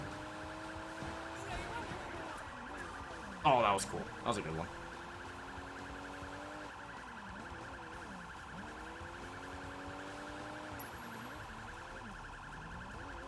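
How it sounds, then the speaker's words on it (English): A police siren wails in the Sleeping Dogs video game, its rising and falling tone cycling repeatedly over the whole stretch, with a brief loud burst of game noise partway through and a voice speaking over it. "While your siren is on, cars will pull over, like in real life"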